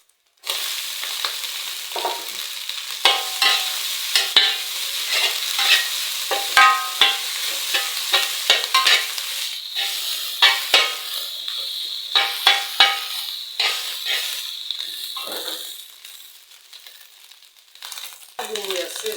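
Leftover rice stir-fries in a hot pan with steady sizzling, while a spatula scrapes and tosses it in frequent quick strokes, close and fairly loud throughout.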